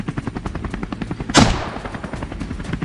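A helicopter on a wild boar hunt flies low, its rotor beating in a steady, rapid thump close by, broken midway by one loud gunshot before the rotor chop carries on.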